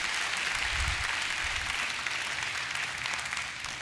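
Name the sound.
church congregation applauding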